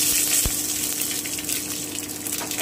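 Dried red chillies and mustard seeds hit hot oil with a steady, hissing sizzle that stays loud and close the whole time and has a sharp pop near the start.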